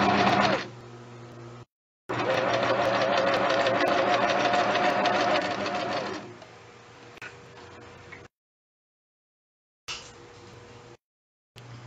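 A sewing machine runs a zigzag stitch along a skirt edge with a fast rhythmic ticking whir, first in a short burst and then in a longer run of several seconds, followed by a few brief quieter starts and gaps of silence.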